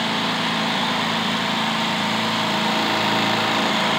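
A new-design oil-free electric air compressor driven by a 2 HP motor runs continuously, a loud, steady mechanical whir and hum holding one even level throughout, with no talking.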